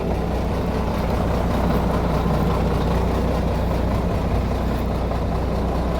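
A K-700 tractor's diesel engine idles with a steady, low, rumbling drone, even and unbroken from start to finish, with no other sounds over it.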